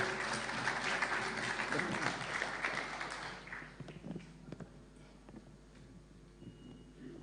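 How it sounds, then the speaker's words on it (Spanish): Applause for a speaker at a citizens' meeting on water, a dense burst of clapping for about three seconds that thins into scattered claps and faint room sounds. "Un fuerte aplauso, por favor."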